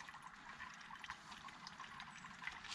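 Fuel being poured into a Trangia camping stove at a car campsite, a faint steady trickling liquid stream lasting a few seconds.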